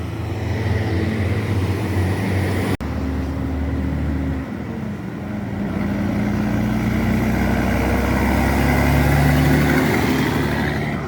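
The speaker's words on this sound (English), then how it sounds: "Listen to the ISM there right now" Diesel truck with a Cummins ISM engine running steadily, a continuous low rumbling drone with broadband roar that swells slightly near the end, heard up close with a brief click partway through.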